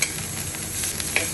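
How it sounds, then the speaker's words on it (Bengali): Dried red chillies sizzle and crackle in hot oil in a pan, a steady close frying hiss with a faint stir, no talking. "ওই তেলের মধ্যে আমি শুকনো লঙ্কা দিয়ে দিলাম।"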